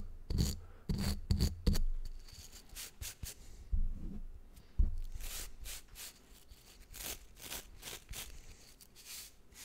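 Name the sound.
brushing hair during barber roleplay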